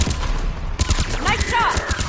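Rapid video-game gunfire from Mass Effect 3 rattles out in quick repeated bursts, loud and close, while a voice speaks briefly over the shooting.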